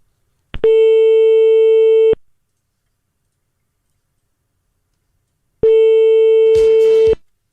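Two long, steady telephone tones from a failed call that reaches an answering machine, each about a second and a half, loud and clean, separated by several seconds of silence, the second ending with a faint crackle.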